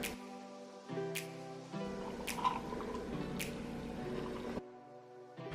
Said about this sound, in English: Finally, just pour your juice into a glass, even on ice if you want